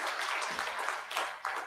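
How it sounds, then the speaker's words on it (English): Moderate audience clapping at a product launch event honoring partners, a fairly soft, diffuse patter of hands with small swells, heard from a distance in a hall. "Can we please have a big round of applause for our partners?"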